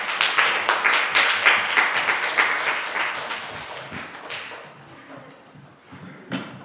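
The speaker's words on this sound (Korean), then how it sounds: "네, 나오실 때 박수 부탁드립니다." Crowd applause at a young adults' church Sunday service as people come forward, steady clapping from many hands that gradually thins out, then a final few claps.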